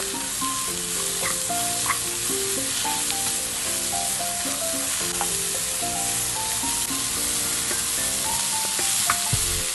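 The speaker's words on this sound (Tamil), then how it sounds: "இது எல்லாத்தையும் நல்லா மிக்ஸ் பண்ணிடலாம்." Vegetable spring roll filling with mint and coriander is stirred in a hot pan, giving a steady sizzle with scraping strokes throughout, under tonal background music.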